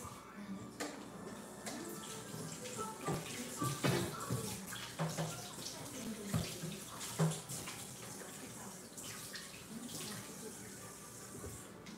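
Tap water runs steadily into a kitchen sink while a blender jar is rinsed out, with clunks and splashes from handling the container over the flow.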